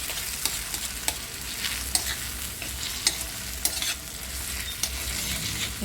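Egg mashed and stirred with fried onion in a hot pan, a gentle sizzle running underneath repeated small scraping taps of the spatula, steady and close, with no voices.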